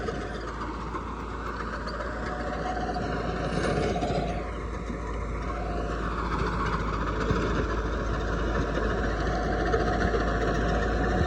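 Irrigation pump engine running continuously for paddy watering, a steady droning hum with a low rumble, moderately loud and unbroken for the whole stretch.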